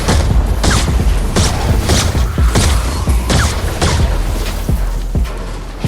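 Repeated explosions from the Stormblade sword in Fortnite Save the World, a dense run of booming blasts and crashing impacts, loud and close, with game sounds filling the gaps.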